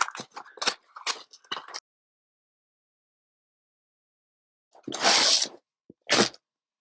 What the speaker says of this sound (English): here we have another piece of hook and loop tape, if I can separate it